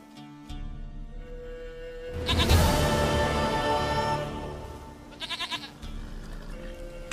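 A goat bleats loudly and close in The Witcher 3, a long wavering cry followed a few seconds later by a shorter quavering bleat, over a steady low game ambience.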